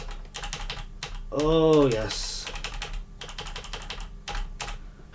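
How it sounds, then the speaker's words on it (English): Typing on a newly assembled Atari Falcon-style Decent XE keyboard, a quick run of light key taps that breaks off for a brief spoken exclamation and then resumes as steady, close clatter. "Let's test the console keys."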